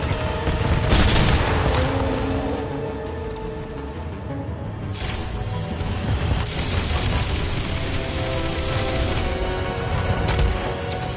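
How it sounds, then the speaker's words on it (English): Surface-to-air missiles launch and explode in a PS4 video game, producing loud, dense booms and rumbling bursts that overlap continuously, with sharper blasts standing out along the way. "Incoming surface-to-air missiles!"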